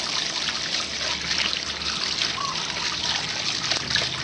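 Water from a tap trickles and splashes steadily over a metal part being rinsed clean of scouring powder after polishing, ahead of cold blackening, a continuous close splatter with no talk.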